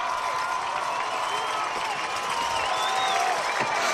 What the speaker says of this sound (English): Morgantown high bench asks for noise from the crowd